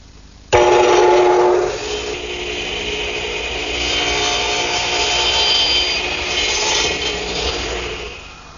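Table saw cutting a tapered wooden plant stand leg: the blade starts with a sharp loud onset, then a sustained high whine and cutting hum that steadies before fading at the end.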